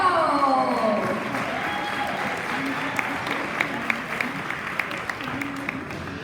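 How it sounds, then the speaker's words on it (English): A luncheon audience applauds the 2025 Monterey County all-star girls' soccer players, steady broadband clapping filling the room while a voice talks over it early on and a few sharper individual claps stand out. "We can give a big round of applause for your 2025 Win Girls."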